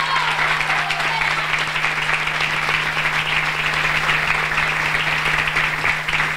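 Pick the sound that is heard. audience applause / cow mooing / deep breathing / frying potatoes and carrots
audience applause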